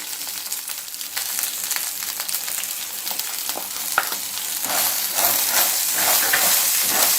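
Green chillies and peanuts fry in a pan for a Kolhapuri thecha, giving a steady, close sizzle with crackling pops. It grows a little louder partway through and carries on without any talk.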